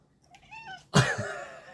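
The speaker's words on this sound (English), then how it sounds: "Cat." A cat gives a short rising meow followed by a louder, harsher yowl, close and clear with nothing else around it.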